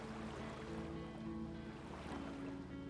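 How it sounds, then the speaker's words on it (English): A sailboat's inboard engine motors across a calm inlet in a Canadian fjord, a steady low drone under faint wind and water. "we rolled in our headsail and turned on our tractor engine in order to gain some ground"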